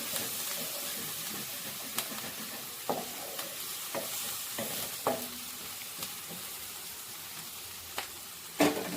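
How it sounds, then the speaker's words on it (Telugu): Curry leaves being stirred in a frying pan while cooking palak paneer, giving a steady low sizzle under repeated soft scrapes and clicks of the spoon, close by with no talking. "ఇప్పుడు కరివేపాకు కూడా వేద్దాం వేసి ఇలాగే కలయ పెట్టుకుంటూ ఉందాము"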